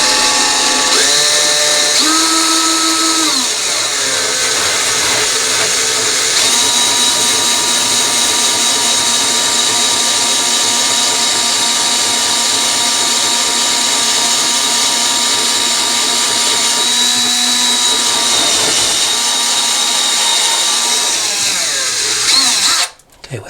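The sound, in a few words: power drill with tile bit drilling through tile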